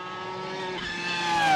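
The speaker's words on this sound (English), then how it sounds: "Just enjoy the sound of this car." A race car at a speed night on a racing circuit, its engine a steady drone that builds and rises in pitch toward the end, no voices over it.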